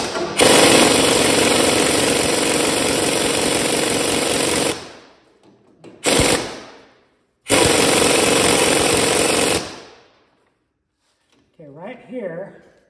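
Power tool, an impact-style driver, tightening the pinion nut on a Dana 60 differential during a re-gear, running in three loud bursts, one long and two shorter, with a brief faint voice at the end.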